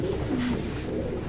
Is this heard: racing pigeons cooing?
yes